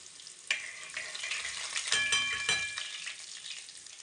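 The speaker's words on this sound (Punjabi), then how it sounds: "ਲਸਣ ਨੂੰ ਆਪਾਂ ਹਲਕਾ ਜਿਹਾ ਬਰਾਊਨ ਕਰ ਲੈਨੇ ਆ" Garlic sizzles in hot oil with cumin seeds in a pan, a steady close crackle with stirring scrapes throughout, for a baingan bharta.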